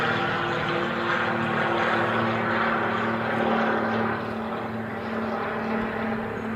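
Boeing 747 jet on the reef runway at Honolulu airport, a loud steady engine roar with a sustained humming drone, heard continuously at a moderate distance.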